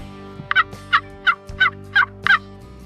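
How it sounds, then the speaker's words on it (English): A rapid burst of wild turkey gobbling, about seven sharp rattling calls in quick succession, fairly close and clear over a low steady hum. "We're going to see these turkeys coming out of the trees where they've been roosting overnight"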